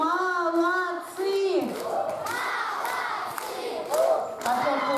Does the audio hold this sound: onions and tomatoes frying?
no